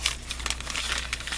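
A paper bag being folded for a junk journal gives off soft, continuous crinkling and crumpling, close and fairly quiet.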